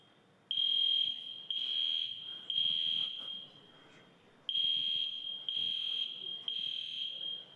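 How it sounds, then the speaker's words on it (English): A fire alarm sounds inside a church in loud, piercing electronic blasts, six pulses of roughly a second each with short gaps and a longer pause midway, set against faint room noise. "Probably somebody pulled a fire alarm."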